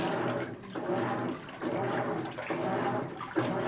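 Water sloshing and pouring steadily inside a GE washing machine during the rinse of a normal cycle, a continuous close wash with rhythmic surges roughly every second as the drum agitates.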